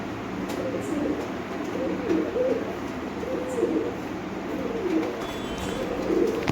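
Domestic pigeons coo steadily in soft, repeating rounded phrases, fairly close, with a faint background hiss, in hot weather.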